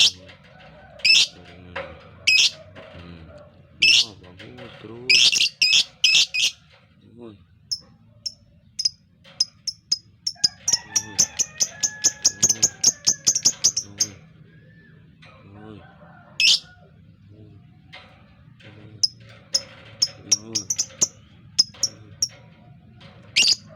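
Birds chirp and call in a series of sharp repeated bursts, some in rapid trills, mixed with clicking sounds while someone talks underneath at moderate distance.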